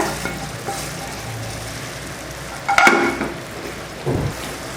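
Caramelised sugar poured into sizzling Tirunelveli wheat halwa and stirred, a steady hiss of frying with a louder scraping burst midway and a short stir near the end.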